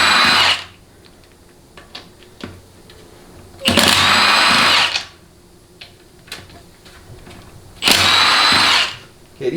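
An impact wrench zips out transmission bolts on a 4L60E during a teardown, with three loud, sustained rattling bursts separated by quiet gaps holding light clanks of tool handling.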